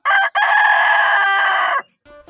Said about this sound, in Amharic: አውራ ዶሮ አካባቢውን በጩኸት ለወጠው።